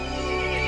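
A horse in the Resident Evil Village video game lets out a loud, close whinny with a strained, trembling tone, brief and alone.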